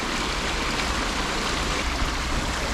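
A river flowing fast and swollen in the UK, a dense, steady rushing roar that stays continuous and fairly close with no pauses.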